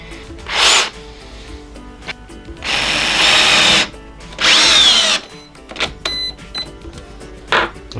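A Metabo SB 18 LTX BL Quick cordless drill bores into hardwood in several loud bursts, one short, then two longer whirring runs with rising pitch, followed by quieter clicks and brief tool noises.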